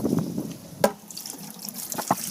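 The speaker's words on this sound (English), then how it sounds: "kicks on the siphon" Aquaponics filter siphon starting as water begins to flow, quiet trickling and splashing with a sharp drip-like splash near the middle and gurgling toward the end.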